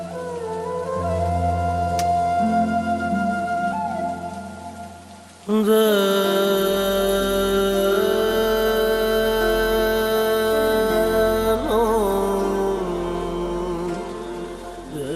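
Steady rain falls in a drama scene as a loud, continuous hiss. Sustained music plays over it, swelling sharply about halfway through, and no one speaks.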